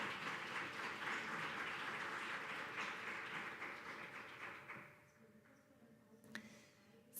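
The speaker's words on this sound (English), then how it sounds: "So a big round of applause for our panelists" Conference audience applause for panelists, a broad wash of clapping that holds steady for several seconds, then thins out and dies away into near quiet with a couple of stray sounds.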